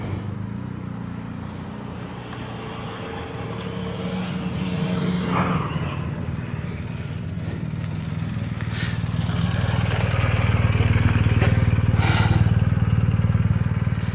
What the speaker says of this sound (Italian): Altre moto.